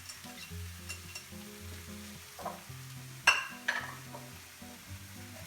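An onion sizzles and fries in a pan while a creamy French-Russian mushroom julienne is being cooked, with a steady low crackle under a soft tonal background and a couple of sharper clatters partway through.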